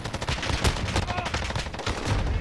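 Call of Duty: Modern Warfare light machine gun fire, a Bruen, in rapid continuous bursts of loud close shots with rattling echo across the whole short stretch.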